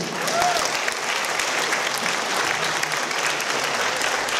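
Audience applause at a charity anniversary concert marking twenty years of a band, a dense, steady roar of many hands clapping that fills the room without a break, with faint cheering in the mix.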